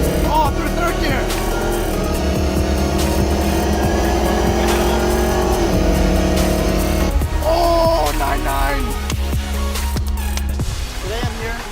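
A Kia Stinger accelerates hard through its gears, the engine note climbing and dropping at each shift, loud and close, with other vehicle noise and voices mixed in near the end.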